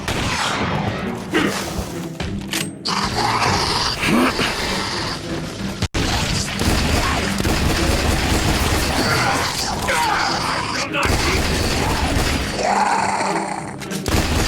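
Gunfire in The Bureau: XCOM Declassified, a loud chaotic firefight of overlapping shots, impacts and mechanical clatter that runs continuously, with brief combat voices mixed in.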